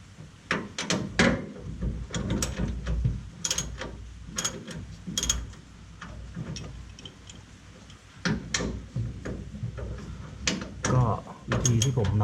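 A ratchet tightens a nut on a rear shock absorber of a Toyota Vigo pickup, giving bursts of quick clicking strokes with pauses and metallic clanks in between, close up, while someone speaks softly now and then.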